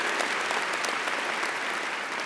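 Dense, steady applause from a large crowd at a Georgia Tech bachelor's commencement ceremony, a continuous wash of clapping with no break.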